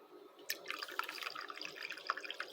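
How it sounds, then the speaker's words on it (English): Cold water trickles and splashes into a cup for a honey lemon drink, a close, busy stream of small drips and plinks with no speech. "So we're adding cold water"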